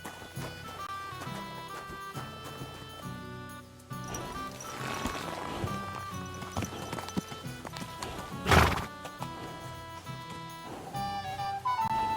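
Video game horse whinnies over clip-clopping hooves, with a loud neigh midway, set against layered game music and ambience; no talk.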